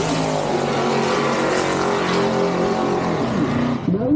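A turbocharged 1969 Nova and a 1971 Ranchero at a drag strip make a loud, continuous engine roar held at high revs, close and dense, dropping away abruptly at the end.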